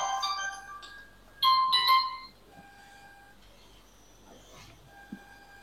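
Phone ringtone from an incoming call during a table tennis tournament results announcement, a short melodic electronic tone sounding twice in the first two seconds, with quieter room noise and faint voices after.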